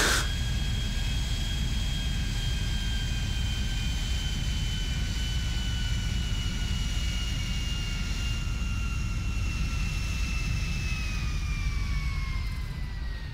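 Airplane landing in the video game Grand Theft Auto V, with a loud, steady engine roar and whining tones that slowly drop in pitch as it descends, continuous throughout without speech.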